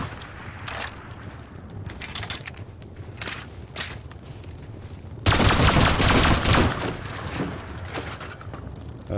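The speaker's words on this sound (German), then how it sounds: "Ansonsten schieße ich die Kiste, scheiße." Gunfire shooting at a locked crate in the survival game Rust: sparse cracking shots, then a louder dense burst of rapid fire around the middle, set against wind and outdoor ambience.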